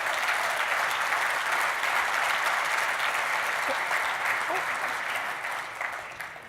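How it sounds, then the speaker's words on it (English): A live event audience breaks into a round of applause for a volunteer called up on stage, dense clapping holding strong before tapering off at the end. "Can we give a round of applause for this good-looking fella?"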